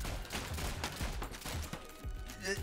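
Rapid gunfire from the modded Rounds arena shooter, a dense run of quick muffled shots at moderate level across the short stretch.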